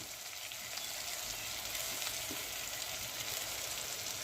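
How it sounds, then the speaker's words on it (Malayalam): Yam leaves sizzle in a hot pan, a dense, steady frying crackle that stays close and even throughout with no talking. "ഒന്ന് ചുമന്ന അതിലേക്ക് നമ്മൾ നമ്മുടെ ചേനയുടെ ഇല ഇടുന്നു"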